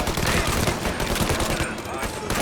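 Rapid Tommy gun bursts in the Mafia video game, a dense, loud fusillade of automatic fire that keeps crackling for the whole stretch.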